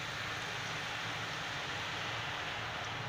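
Boondi batter drops into hot oil and fries for motichoor ladoo. It makes a steady, dense sizzle with a soft, continuous hiss from start to end, fairly faint and with no voices.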